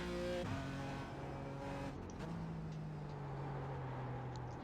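GT4 race car engine in iRacing at Mid-Ohio, a sustained buzzing engine note that drops sharply in pitch with a quick downshift, then holds steady at a lower tone.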